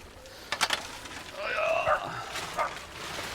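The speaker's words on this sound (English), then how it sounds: "I don't know why she's barking at me" A dog barks in a quick burst of sharp yips, then whines and yelps a few more times at moderate distance.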